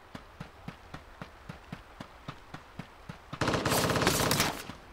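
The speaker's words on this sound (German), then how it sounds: "Von links kamen die Schüsse bei mir." Gunfire in the video game Ring of Elysium: a steady run of single shots at even spacing, then a dense, loud burst of rapid automatic fire near the end.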